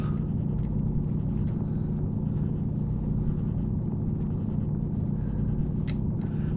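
A handheld drill runs continuously while the player moves across the Martian surface in the Stationeers video game, a loud steady low rumbling drone with small clicks on top, no voice.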